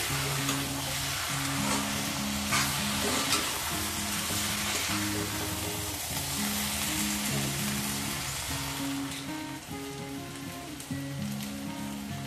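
Jackfruit curry frying in a pan gives off a constant close sizzle and crackle like light rain, with a steady low tonal hum underneath and occasional stirring, no talking.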